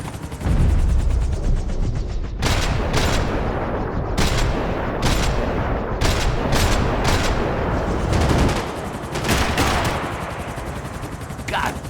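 Dense gunfire in the Max Payne 3 video game: rapid bursts and single sharp shots crackle over a busy, rumbling action backdrop, loud and close throughout.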